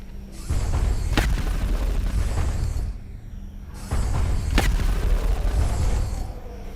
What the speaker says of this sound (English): And I think I'm gonna do the rapid fire.